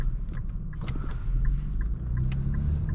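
A 2020 Infiniti Q60 3.0t pulls away on the road, its low engine rumble and road noise steady inside the cabin, with light ticking and clicking sounds recurring over the drone.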